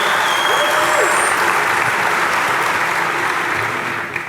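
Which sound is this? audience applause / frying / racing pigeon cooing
audience applause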